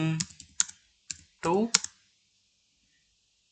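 Computer keyboard keys clicking while an HTML h1 heading is typed during a web coding tutorial: a few sharp, close taps spaced irregularly, partly overlapping a man's speech.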